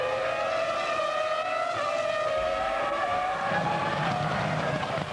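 Formula 1 Ferraris race at the 2005 U.S. Grand Prix, producing a continuous high-revving engine whine with gear-shift pitch sweeps. The cars sound fairly distant and steady, with no talk over them.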